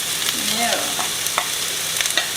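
Onions hitting hot oil in a pan, a steady close sizzle and crackle with a few sharp spoon scrapes and taps over it, no voices.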